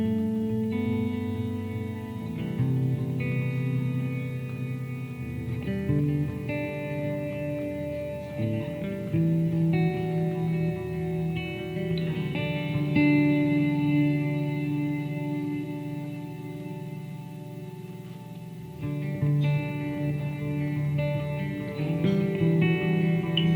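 An electric guitar plays sustained notes through a delay pedal with reverb, each phrase echoing and repeating behind the next in a shimmering, chorus-like wash, loud and close with no talking.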